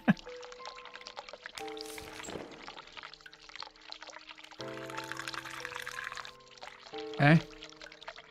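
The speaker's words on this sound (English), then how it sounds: "I'm dying for a wee." Someone urinating into a toilet makes a trickling, pouring splash of liquid into water, heard close amid other household sound and people talking.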